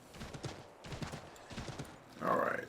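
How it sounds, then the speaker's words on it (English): A horse's hooves clip-clop in steady repeating groups in the Assassin's Creed 3 video game, ending in a loud whinny, with someone talking over it. "Rest and relax, my horse friend."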